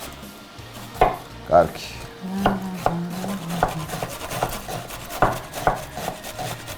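A knife chops onion on a cutting board in a home kitchen while borscht is being made, with about a dozen sharp, irregular thuds close by and quiet conversation in the background.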